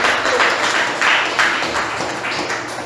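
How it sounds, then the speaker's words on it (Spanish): A church congregation claps in a strong, pulsing round of applause, loud and close, swelling in rhythmic bursts before easing slightly at the end. "Den un fuerte aplauso al Señor"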